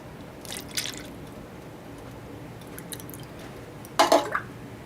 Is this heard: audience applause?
no